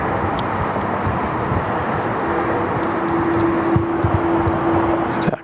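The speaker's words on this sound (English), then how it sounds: "Qantas A330 coming out to play as well." A Qantas Airbus A330 airliner at Sydney Airport gives a constant, heavy jet roar at a distance. A thin steady whine sits over the rumble for the whole stretch, with no voices.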